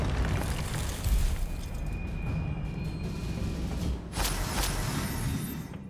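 A Confringo fire-spell blast in the Hogwarts Legacy video game, heard as a rumbling explosive burst over continuous loud battle noise, with a sharper crack about two-thirds of the way through and no talking.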